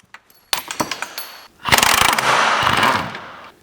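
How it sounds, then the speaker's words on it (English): Rapid metallic ratcheting bursts from a socket wrench working bolts loose on a B7 Audi A4 front subframe support, a short sequence of clicks followed by a longer sustained rattling run, close and sharp. "And now we're gonna take out these bolts."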